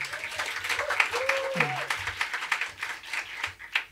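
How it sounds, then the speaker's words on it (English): A pitch contest audience gives scattered, uneven applause, individual claps distinct and fairly close, with a voice speaking briefly over the start. "Big round of applause for Maria."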